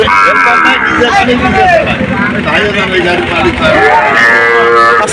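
Sahiwal cattle and calves mooing loudly and repeatedly over a crowd of people talking at a busy cattle market.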